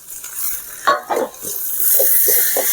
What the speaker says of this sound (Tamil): அடுத்தது தக்காளி, எல்லாமே நல்லா வதங்கட்டும்